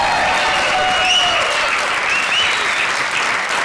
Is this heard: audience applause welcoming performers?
yes